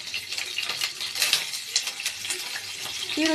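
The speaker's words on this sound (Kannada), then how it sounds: "ಈಗ ಹಸಿಮೆಣಸಿನ್ಕಾಯಿ ಸ್ವಲ್ಪ ಹಸಿಮೆಣಸಿನ್ಕಾಯಿ ಬಾಡಿಸ್ಕೊಂಡು ಆಮೇಲೆ ಈರುಳ್ಳಿ" Green chillies fry in oil for a tomato stir-fry, making a soft crackling sizzle with faint utensil clinks and stirring scrapes, fairly quiet and close.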